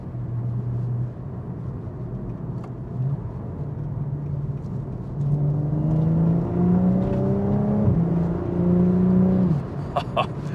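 A modified BMW M135i with an induction kit drones and builds revs at close range, its engine tone climbing steadily before dropping off, with faint wastegate chatter and whooshes near the end and no talking.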